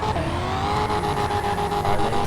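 A 2024 Ford Mustang GT (S650) spinning its tires in GTA FiveM, with a steady engine roar and tire squeal held at high revs throughout, loud and close.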